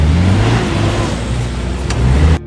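A 4WD car's engine revs hard and steady, loud and close, while it grinds along a sandy off-road track on Fraser Island, holding a strong low drone throughout before cutting off abruptly at the end.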